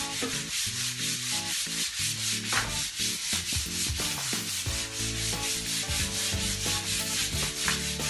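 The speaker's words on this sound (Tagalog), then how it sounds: "kani liha. Mo ni ibag na sa bungbong." Sandpaper rubbing steadily across a wall while a room is prepared for painting, a continuous gritty scraping that runs the whole time over a tonal background.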